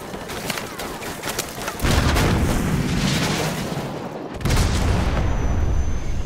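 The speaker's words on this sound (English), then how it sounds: "So, grab another Stinger and fire again." A Stinger missile fires in Call of Duty 4: Modern Warfare Remastered, a sudden loud whooshing boom followed by a second heavy blast and sustained roar, with scattered battle noise before it.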